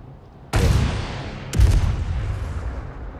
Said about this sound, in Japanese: 爆発が二重で起こるタイミングとかあるんやけど